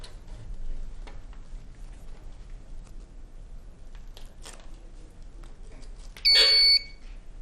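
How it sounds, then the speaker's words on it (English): A quiz-bowl timer goes off with a single brief, shrill electronic beep lasting about half a second, loud against a quiet room with faint ticks and shuffles. "We have the timer go off"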